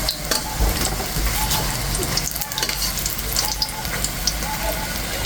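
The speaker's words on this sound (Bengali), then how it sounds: "অল্প তেলের ভিতরে সবগুলো রোল খুব সুন্দর করে উল্টে পাল্টে ভেজে নিলাম" Chicken and potato rolls shallow-frying in a little oil, a loud, close, constant sizzle and crackle with occasional spatters as the rolls are turned.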